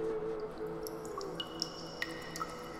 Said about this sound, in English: every drip from the cave lime icicles